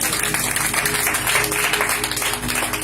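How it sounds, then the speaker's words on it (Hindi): A church congregation claps together in thanks, a dense, continuous stretch of many hands clapping at close range, with a few voices mixed in. "प्रभु का धन्यवाद देंगे ताली बजाकर।"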